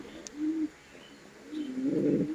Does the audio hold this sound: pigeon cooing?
yes